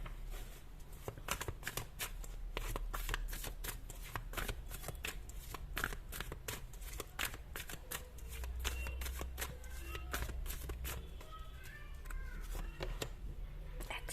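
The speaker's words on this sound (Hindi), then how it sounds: "सारे कार्ड्स निकाल लेते हैं।" Tarot cards being shuffled by hand in repeated quick riffling bursts across the whole stretch, crisp and close, with a low steady hum beneath and no talking.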